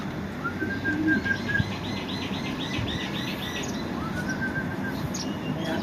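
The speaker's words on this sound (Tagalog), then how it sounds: "Ito yung mga kalapate." Racing pigeons at a rooftop loft coo and chirp in repeated soft calls, with occasional wing flaps and faint background ambience, as birds arrive from a 270 km training toss.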